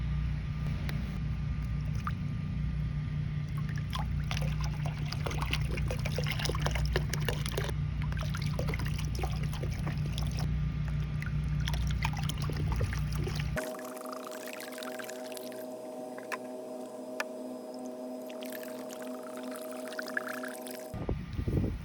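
Hydrogen peroxide poured from quart bottles into a container holding a Bike Bug Deluxe engine cover: a steady, fairly loud gush of liquid lasting several seconds, then a quieter, thinner trickle with a faint tone over it.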